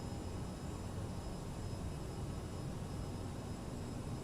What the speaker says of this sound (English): There's an aeroplane taxiing.